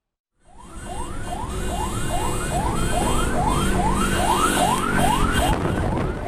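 Wailing ambulance siren on a street in Ciputat, South Tangerang, loud and close with a rapid repeating rise-and-fall yelp over heavy traffic and engine rumble, continuous throughout.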